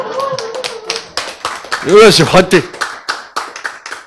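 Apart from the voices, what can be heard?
a person clapping hands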